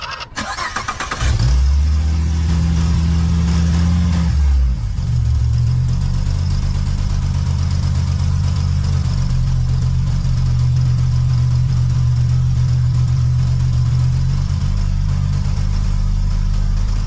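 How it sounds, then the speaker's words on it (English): A V6 Ford Mustang engine with a BBK 73mm throttle body cranks briefly with the hood up, catches with a rising rev, then settles into a loud, steady idle, close by. "I'm gonna start the car with the hood up"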